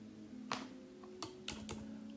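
Typing on a computer keyboard: a few quiet, scattered key clicks over a low background hum.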